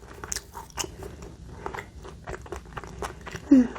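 Crunchy nut bread being bitten and chewed close to the mic, a series of sharp crackling crunches in an uneven rhythm, with a brief voice sound near the end.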